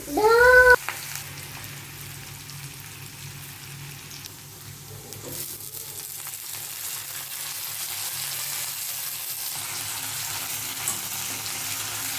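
Onion goes into hot oil in a pan, followed by a steady soft sizzle of frying that continues alone.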